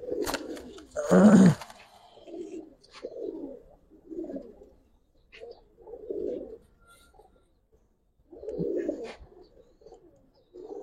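Giribaz pigeons coo nearby in repeated soft, throaty phrases with pauses between them, and one louder burst of calling near the start.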